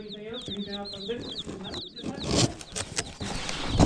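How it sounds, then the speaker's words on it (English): Newly arrived meat chicks peep in a quick run of high, repeated chirps at close range, soon overtaken by louder rustling and handling noise, with a voice faintly present. "Our baby chicks have just arrived to the post office."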